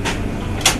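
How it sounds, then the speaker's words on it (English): A flat-bladed tool prising up one corner of a hard drive lid makes a short scraping creak followed by a sharp metallic click as the lid pops loose, close and fairly loud. "Use a flat-bladed instrument to prise open one corner of the lid"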